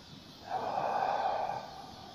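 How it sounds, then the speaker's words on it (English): A single slow, audible breath drawn in through the nose during a centering breath at the start of a short yoga mobility session, close and steady, lasting about a second against a quiet room. "Go ahead and start breathing."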